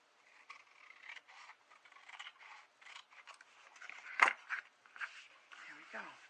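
Scissors trim paper for a handmade junk journal with quick, faint, close snips and soft rustling. The cuts come in short irregular bursts, and one crisp snap stands out near the end.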